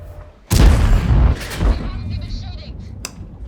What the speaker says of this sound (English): He's shooting the standard ammunition.